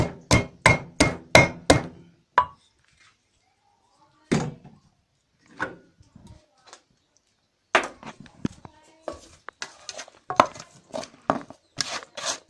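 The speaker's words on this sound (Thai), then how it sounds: "ขั้นตอนนี้ก็จะเป็นการ โขลกพริกนะครับผม" Chilies pounded in a mortar with a pestle for a cucumber salad, a quick run of about six loud rhythmic thuds, then a pause with scattered knocks, and irregular pounding resuming near the end.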